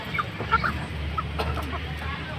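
Chickens at a market clucking in short, scattered bursts over a low background rumble, fairly close and moderately loud.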